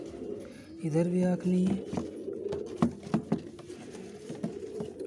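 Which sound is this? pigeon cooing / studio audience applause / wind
pigeon cooing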